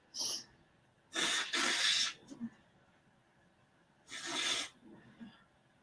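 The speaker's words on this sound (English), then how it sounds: "I'm blowing my nose" Several sharp, breathy blasts of air sound close by, like a nose being blown, separated by quiet pauses.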